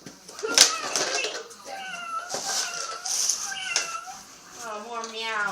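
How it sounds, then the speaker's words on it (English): A cat meows several times in drawn-out, rising and falling cries, heard close by against light background noise with a few sharp knocks. "Oh, more meows."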